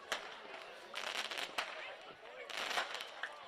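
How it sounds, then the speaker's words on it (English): Fireworks and firecrackers crackle and pop in scattered bursts during a celebration at a football stadium after a Chatham Cup semi-final, sharp bangs rising over crowd noise with a commentator talking throughout. "Some fireworks even going off."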